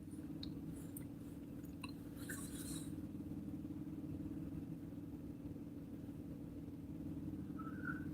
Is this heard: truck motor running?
yes